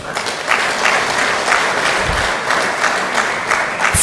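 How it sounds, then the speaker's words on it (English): Audience applause at an African Liberation Day conference of the Pan-African Movement in Rwanda, a dense, loud, steady burst of many hands clapping that fills the room, with no talk over it. "just let's give our claps to to the panelists and the moderator"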